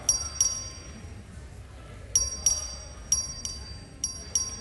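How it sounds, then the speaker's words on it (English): Voting bell in the Texas House chamber during a record vote, heard as a few sharp metallic rings at intervals over a murmuring room with background voices. "Clerk, ring the bell."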